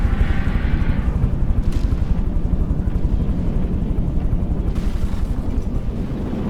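Battle in the naval combat game From The Depths, a dense, continuous rumble of rapid gunfire and explosions with a few sharper bursts standing out, loud and without talk.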